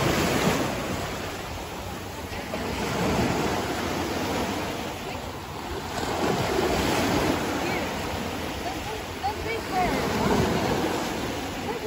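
Steady, broadband surf of ocean waves rolling in at high tide, swelling and easing in slow surges with some wind noise, continuous across the whole stretch with no clear voices.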